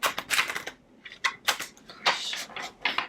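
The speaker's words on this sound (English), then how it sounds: "I'm so bad at shuffling" A deck of oracle cards being shuffled, a few quick papery riffles and flicks in short bursts, close and fairly quiet, with no talking.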